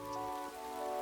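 Steady rain falls in the video game Animal Crossing, a soft even patter with a faint ringing tonal layer over it, no voices.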